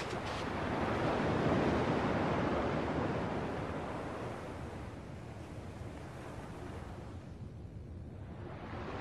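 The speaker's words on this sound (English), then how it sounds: "At least the waves sound the same." Ocean waves wash onto a shore in the video game Kingdom Hearts II, a broad steady surf roar that swells over the first seconds and then eases into a softer, even wash, with no voices.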